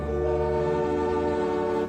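A train horn blares in a long, loud, steady chord of layered tones, with the low rumble of the train running beneath it throughout.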